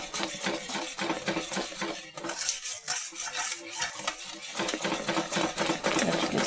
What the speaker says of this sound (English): have them step in and give it a whisk for a little bit